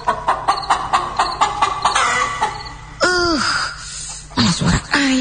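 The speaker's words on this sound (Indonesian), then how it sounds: "Suara ayam yang tidak tahu di mana itu kini terdengar kembali." A chicken clucks in a rapid rhythmic series of sharp, close clucks, followed by a few drawn-out squawks, set within a spoken horror story.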